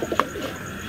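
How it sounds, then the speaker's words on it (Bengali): A female pigeon gives a brief soft coo at close range, a few low throaty pulses with quiet background and no speech. "এটা একটা মাদি কবুতর, খুবই সুন্দর মাশাআল্লাহ"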